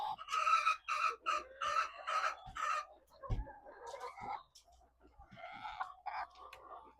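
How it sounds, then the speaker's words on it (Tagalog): Chickens on an egg farm cluck and squawk close by in a rapid series of calls, then quieter scattered clucks and a soft thump follow. "pinagkakaguluhan ako ng mga manok sa paligid ko"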